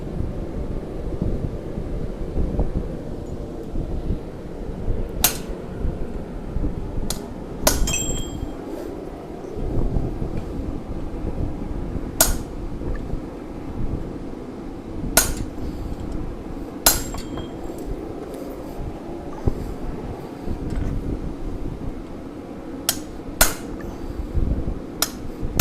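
Blacksmith's hammer ringing on hot metal while forging a decorative baroque hook, sharp metallic strikes at irregular intervals, some spaced several seconds apart, over a constant windy background hiss.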